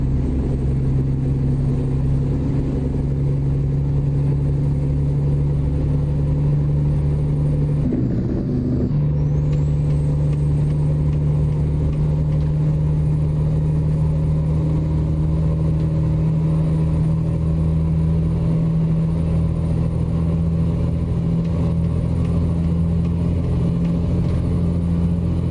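A Kenworth W900A truck with an 8V92 diesel engine in American Truck Simulator rumbles steadily with a constant low drone, briefly interrupted by a sharp air-brake hiss partway through, then droning on evenly.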